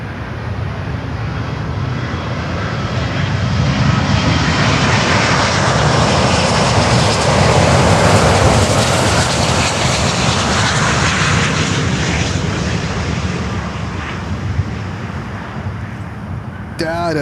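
A Qatar Airways Airbus A350-1000 landing at Miami produces a sustained, loud jet roar that builds gradually toward the middle and then tapers slightly, heard nearby.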